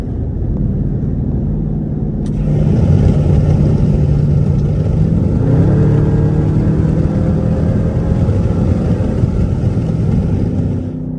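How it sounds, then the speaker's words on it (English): Loud buffeting wind roar through a partly open window of a moving straight-piped Jeep, a dense rumbling rush mixed with low exhaust drone that swells slightly and holds steady throughout. "Nah, the wind sounds too loud. Overly loud."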